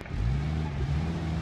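Two cars driving toward and off a ramp in BeamNG Drive, a steady mid-pitched engine drone with a sustained revving hum, fairly close and loud, with no talking over it.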